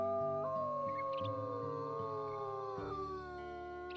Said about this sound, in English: Oh, listen to the howls.